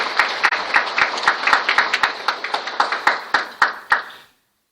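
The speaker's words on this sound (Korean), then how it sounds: "환영하는 마음으로 박수로 맞아주시기 바랍니다" A church congregation at a Catholic lay Sunday Mass applauds to welcome a lay speaker, a steady run of distinct, fairly close handclaps from a modest crowd that tapers off and stops.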